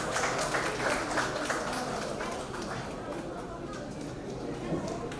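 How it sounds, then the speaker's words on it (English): Applause fills a college award ceremony hall at the JIS Innovation Award, a steady wash of clapping with crowd chatter and a voice speaking over it throughout. "A big round of applause."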